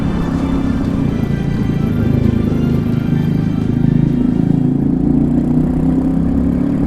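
A Royal Enfield Meteor 350 motorcycle pulls hard on a dual carriageway, its single-cylinder engine droning loud and steady with a low throbbing hum and continuous wind rush throughout.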